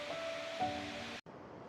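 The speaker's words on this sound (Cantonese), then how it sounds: "咁呢個咧就係樹頭瀑布啦" Tree-root waterfall in a park near Kinugawa Onsen, Nikko, Japan: a steady broadband rush of falling water, moderately distant. A brief dropout comes near the end.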